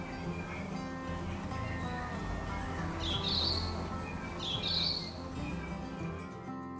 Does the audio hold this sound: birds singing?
yes